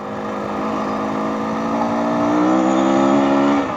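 A 2022 Husqvarna FE 350s dirt bike engine revs hard on a trail ride, a steady, loud buzzing drone that climbs in pitch and intensity before cutting off abruptly near the end, with no voices.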